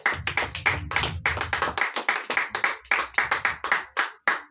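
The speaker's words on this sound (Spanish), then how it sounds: "Denle un aplauso al Señor" A church congregation claps in praise to the Lord, loud and close, in quick uneven bursts of handclaps with a low hum of voices under the first seconds.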